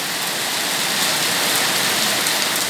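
Rain falls steadily outdoors in a dense, even hiss of drops hitting surfaces, loud and unbroken throughout, with no talking.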